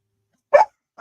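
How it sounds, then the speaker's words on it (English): A dog gives one short sharp bark up close, then the start of a second bark cuts in at the very end, with silence around them. "Oh my god, dogs."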